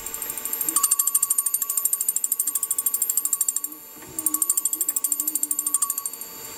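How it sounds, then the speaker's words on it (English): A milling cutter lightly touching a metal eccentric strap for a Stuart Models S50 engine, giving a rapid, steady ticking chatter with a short pause midway, close and fairly loud. "Just going to bring this cutter down until I hear the slightest of noises."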